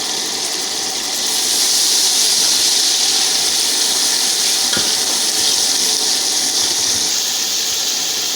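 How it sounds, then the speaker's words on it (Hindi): Garlic hits a hot pan for a goat trotter (mutton paya) curry and erupts into loud, continuous hissing sizzle that swells after a second and holds steady, close and unbroken. "इसमें हम लहसुन डालेंगे।"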